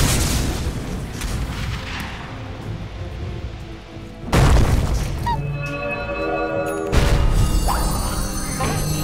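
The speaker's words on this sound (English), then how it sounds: "Dire's middle barracks are falling." Dota 2 match with a barracks collapsing: a heavy crash bursts in around four seconds, followed by a second loud impact near seven seconds over dense game clutter and sustained rumble.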